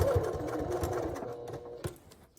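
A sewing machine top stitching vinyl at a 3.5 stitch length runs in a fast, steady whir of needle strokes for a couple of seconds, close and clear, with a brief louder clunk near the end.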